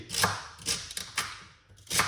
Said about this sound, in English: we're going to cut up some celery